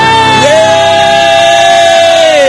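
A church congregation shouts hallelujah in unison, a loud sustained crowd cheer with one dominant voice held over the massed shouting.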